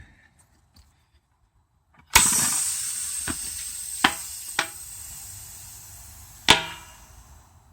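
Bontrager TLR Flash Charger floor pump releases its charge into a Panaracer Gravel King tubeless tyre, a sudden loud hiss of air followed by a few sharp pops and a final loud snap as the bead seats, close up.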